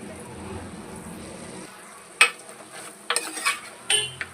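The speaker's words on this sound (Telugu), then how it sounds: "బాగా కలిపేసుకుందాం ఒకసారి." A spoon stirs water hen pepper fry masala, fried with spices and plenty of black pepper, in a pan. A few sparse scrapes and clinks sound against a quiet background, with no talking.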